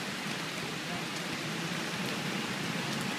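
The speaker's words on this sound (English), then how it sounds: "in this pouring rain" Pouring rain falls steadily at an outdoor demonstration, a dense, even hiss of drops that holds at the same loudness throughout with no pauses.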